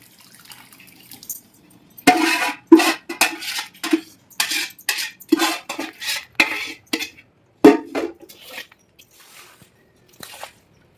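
A spoon scrapes and clatters repeatedly against a bowl in uneven bursts, close up, as thick ginger pickle is stirred and mixed.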